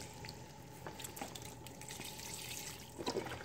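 Beef broth poured into a stew pot, a light continuous splashing and trickling of liquid with small bright drips, fairly quiet and close, with no talking.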